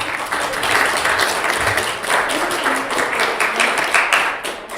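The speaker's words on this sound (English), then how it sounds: "Give a round of applause to Austin." Church congregation applauding at St. Mark AME Church in Duluth, dense continuous clapping from a roomful of people, loud and steady throughout with no voices over it.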